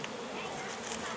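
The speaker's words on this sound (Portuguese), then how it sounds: "Era muita abelha." Bees swarm in a forest during a honey harvest, their dense, steady buzzing filling the air at close range with no gaps or pauses.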